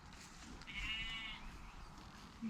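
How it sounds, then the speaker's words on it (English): A single sheep bleats faintly from a distance on a farm, one drawn-out, wavering call rising briefly over a low, steady outdoor rumble. "That was a sheep."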